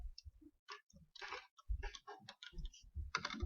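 Quiet, irregular clicking of keys on a computer keyboard in a classroom lesson setting, short bursts of taps with brief pauses, close and faint.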